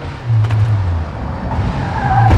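A rally car in the WRC 5 video game brakes and skids on a snowy Monte Carlo night stage. A loud engine drone carries a scraping tire slide, and the engine climbs again near the end.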